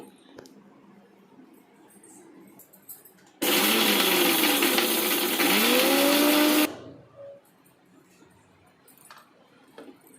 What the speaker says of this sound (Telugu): కొంచెం మిక్సీ పడతానండి.